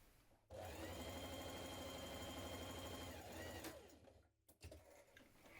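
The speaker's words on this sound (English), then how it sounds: "So sew those seams now." A sewing machine runs steadily for a few seconds stitching the inner leg seams of a jumpsuit, a close, even motor whir that slows and stops, followed by a few small clicks.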